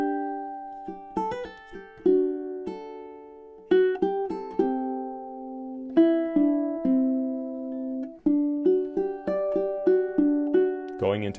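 Ukulele plays an in-and-out picking pattern from a piece, moving between inner and outer strings in clear plucked notes and arpeggiated chords with gaps between phrases, close and clean with no talk.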